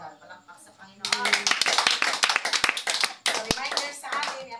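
A crowd clapping hands in a Filipino worship gathering, a dense burst of many overlapping claps after a brief spoken lead-in, continuing for several seconds with a short pause before resuming.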